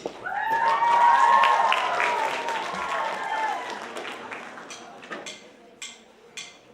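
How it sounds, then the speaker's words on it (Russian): An audience applauds a contemporary music school group at a concert, clapping swelling early then thinning to a few scattered claps, with a sustained tonal sound and voices over the start. "бурными аплодисментами встречаем группу школы современной музыки «Панорама»"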